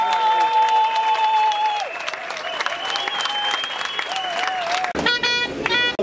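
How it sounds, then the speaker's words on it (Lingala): Sustained applause and ovation from a large audience at a UDPS party congress, loud and continuous, with tonal horn or vuvuzela-like toots layered over the clapping and a sharp burst near the end. "vous adresser une salve bien nourrie d'ovations et d'applaudissements"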